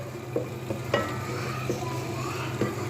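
Egg stirred and broken up with a spatula in a hot frying pan for fried rice, giving a steady soft sizzle with a few distinct scrapes and taps against the pan, close and fairly quiet, with no talking.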